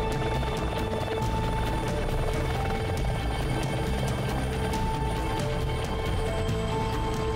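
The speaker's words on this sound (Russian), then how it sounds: "Не знал, что ты умеешь управлять вертолетом." A helicopter in flight gives a steady, loud, close engine drone with a rhythmic rotor beat throughout, and no one speaks.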